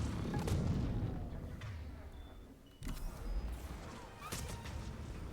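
Grenade blast in the Mass Effect 3 video game: a loud burst near the start, followed by another sharp crack and booming impacts amid ongoing combat noise.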